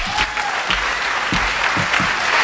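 Warm audience applause welcoming Nan O'Brien on stage at the 2010 Miss Vermont pageant, a steady dense wash of clapping from a large crowd that holds loud and even throughout without letup.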